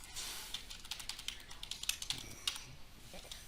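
Fingers type on a computer keyboard during an EnerGov software contact search, giving a quiet, quick run of soft key taps with a few brief pauses, close up and alone.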